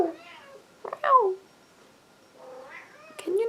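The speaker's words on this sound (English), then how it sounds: "My cat's just come in." A house cat meows several times indoors, short close cries spaced apart with pauses between them.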